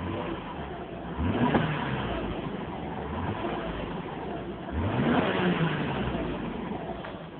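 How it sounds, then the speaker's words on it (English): Engine of a 1991 Mercedes 300CE Cabriolet revved twice from idle, each rev climbing smoothly and then settling back, heard close and fairly quiet. "Car revs up nice."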